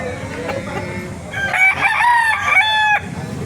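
At a rooster market in Baliuag, Bulacan, a rooster crows loudly and close against a background of clucking fowl, the crow rising strongly midway through.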